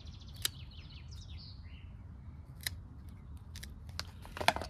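Garden shears or scissors snipping a sweet potato stem cutting, several crisp separate clicks spread across the moment, close and clear over a low background hum, with faint bird chirps in the distance and no talking.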